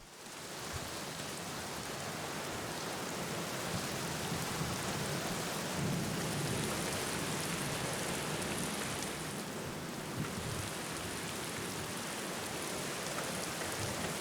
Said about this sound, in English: before it started to rain